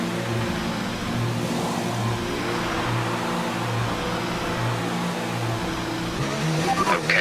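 A McLaren F1 car pulls away from the pits in F1 2019, its engine holding a steady, pulsing hum before revving harder near the end, while a radio voice talks over it.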